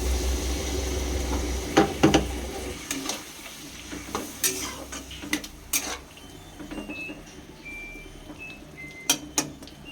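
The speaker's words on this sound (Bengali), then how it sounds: "এবার একটু নেড়ে নিতে হবে।" Poppy seed paste with green chilli is stirred in a pan over heat, a steady sizzle broken by repeated sharp scrapes and clinks of the spoon against the metal, with no talking.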